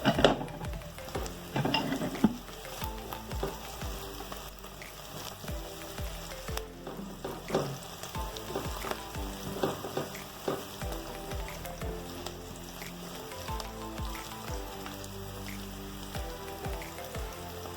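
Garlic cooks in a pot of oil as the base for curry chicken, with a steady close sizzle and crackle that runs throughout, plus a few louder pops and the stir of a spoon.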